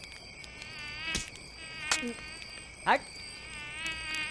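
Mosquitoes whine in a thin, steady, high-pitched drone that runs through the whole stretch, broken by a few sharp slaps or knocks and one short spoken word.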